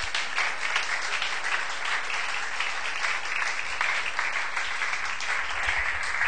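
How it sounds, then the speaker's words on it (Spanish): Congregation applauding loudly in church during a Spanish-language evangelical service, dense continuous clapping that holds steady throughout without a break. "Denle un fuerte aplauso a Cristo."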